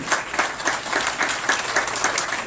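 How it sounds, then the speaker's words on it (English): Mourners at a funeral clap together in a sustained round of applause, a dense, even patter of many hands at moderate distance with no talking over it. "I want everybody to just give themselves a round of applause"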